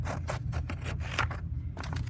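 Scissors cutting paper for an 8th grade school journal, a quick series of close, dry snipping and scraping strokes in steady rhythm, alone with no talk.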